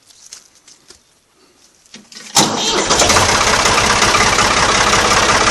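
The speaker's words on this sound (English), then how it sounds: "So I'm going to fire up the tractor and film this thing pushing down" Tractor engine cranks and fires up after a few quiet handling sounds, then settles into a steady, loud, close-up idle with a rough, pattering rumble.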